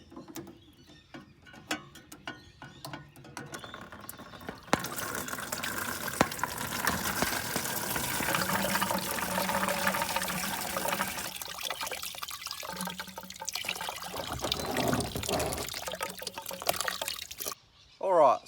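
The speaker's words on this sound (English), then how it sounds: "let's release the water that's currently in the cooling system" Water draining from a car radiator cooling system during a coolant flush, a steady broadband gush and trickle of liquid running for most of the stretch, with a quieter start and end.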